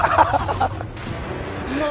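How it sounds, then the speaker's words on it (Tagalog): A chicken squawks after being kicked in the video game Mobile Legends, a few sharp gobbling clucks up front over a busy esports arena background of crowd and game noise. "Sinipa yung manok!"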